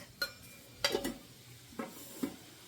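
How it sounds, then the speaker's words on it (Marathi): Chili powder and ready-made masala stirred in a pan for a spicy mutton curry, a few distinct scraping stir strokes over a faint sizzle, close and fairly quiet with no talking. "तिखट आणि रेडीमेड मसाला जो आहे तो छान फ्राय होऊ द्यायचा"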